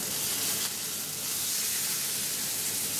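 A salted Skrei cod fillet sears flesh-side down in a hot pan, giving a steady, dense close-up sizzle and hiss with no pauses.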